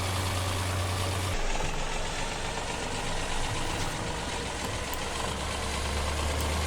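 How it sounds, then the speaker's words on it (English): An old, run-down tractor idles in Farming Simulator 2017, a continuous low mechanical engine drone that holds steady throughout, with a slight shift in tone early on and no talking. "I do like this tractor"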